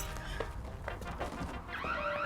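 A house alarm system goes off indoors, rising into a loud wavering electronic siren tone near the end over a dense, steady background of noise.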